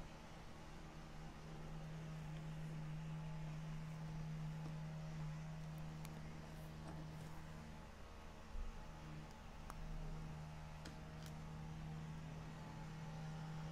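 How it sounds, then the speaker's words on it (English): A string trimmer runs somewhere outside, heard as a faint, steady droning hum with a slight waver, distant and continuous with no voices over it. "you can hear that strimmer in the background"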